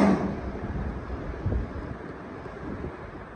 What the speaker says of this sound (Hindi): कितना प्यारा मौसम है बाहर का, ठंडी हवा चल रही है